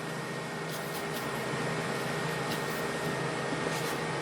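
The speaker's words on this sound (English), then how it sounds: "you might hear some lawnmowers in the background as well" Lawnmowers run somewhere in the background on grass-cutting day, a steady broadband engine drone that holds at a constant level throughout with no talking.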